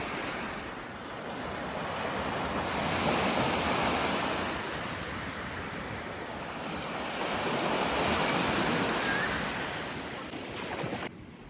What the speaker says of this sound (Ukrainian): шепіту хвиль